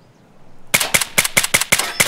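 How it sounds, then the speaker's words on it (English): Rapid gunfire in Escape From Tarkov rings out close and loud in a burst of about seven sharp, evenly spaced shots after a quiet lead-in. "I'm getting shot at."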